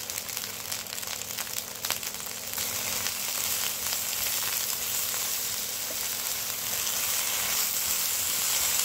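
Okra with a pinch of turmeric fries in a pan over low to medium heat, a steady close hiss of sizzling oil that grows a little louder, with a few light stirring clicks early on.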